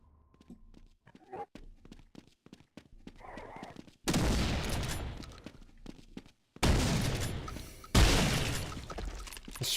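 Shotgun blasts from the video game Half-Life: after a quiet stretch of faint clicks and shuffling, three loud, close booming shots ring out a couple of seconds apart, each one trailing off into a rough, decaying rumble.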